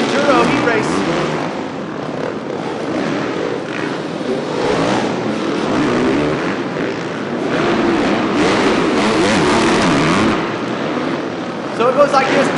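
Off-road motorcycles race a non-seated Super Enduro heat at the Las Vegas Endurocross round, a continuous loud roar of revving engines throughout with crowd and arena noise underneath and a commentator talking over it.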